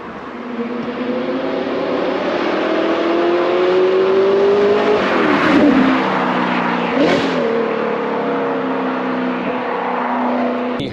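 An Audi R8 with a V8 and manual gearbox drives along, its engine a loud steady drone that rises and falls in pitch with throttle, with two brief sweeps as it pulls through the gears.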